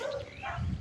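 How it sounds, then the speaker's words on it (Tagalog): Dogs barking at home, eager to get out but kept behind a barrier; short overlapping barks and yips sound close, with some low rumble underneath. "Mga nagsisitahol kasi"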